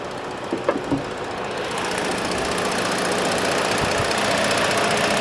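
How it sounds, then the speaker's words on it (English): A 2017 Ford Explorer Police Interceptor's 3.7-litre V6 engine idles steadily with a low, even rumble, preceded by a few brief clicks and knocks near the start. "Alright, this is the engine here"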